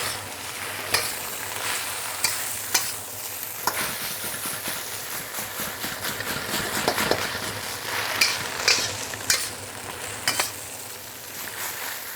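Pea tips stir-fry in a hot pan, hissing and crackling continuously while a utensil scrapes and tosses the wilting leaves with intermittent clacks.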